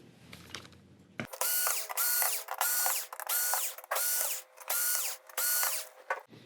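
A power screwdriver whirs in about six short repeated bursts as screws come out of a Sony XBR-65X850E TV main board, close and fairly loud with brief gaps between them.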